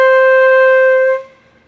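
A single sustained flute note held steady and loud for about a second, then dropping off abruptly to a faint, breathy remnant with no gradual fade between loud and soft.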